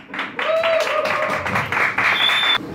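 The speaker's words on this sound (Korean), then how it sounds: "여러분들의 뜨거운 박수와 함성으로 맞이하도록 하겠습니다." A club audience in Hongdae, Seoul claps and cheers to welcome a band onto the stage, a loud, dense wash of applause with whoops and shouts across the short stretch.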